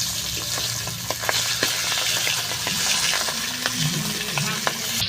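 Pabda fish fry in a pan of hot oil with a continuous close sizzle, dotted with frequent small pops and a few soft scrapes as the pieces are turned, with no voices over it.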